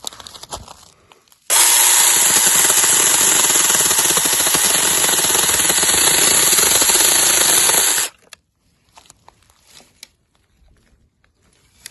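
A small Makita cordless chainsaw runs steadily for about six seconds, a continuous high buzzing whine as it cuts through a thick piece of wood, with quiet handling noises before and after.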